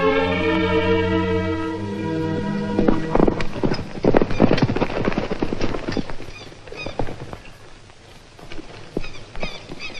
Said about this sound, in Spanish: Yo también la vi, y el caballo se me espantó.